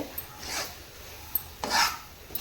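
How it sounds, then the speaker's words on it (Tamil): A ladle working through thick, stiff banana malt in a pot: two or three slow, heavy scraping and squelching strokes with pauses between, close and moderately quiet. "நல்லாவே கரண்டியில் கிண்டவே முடியல அந்தளவுக்கு டைட்டாக பிடிக்குது"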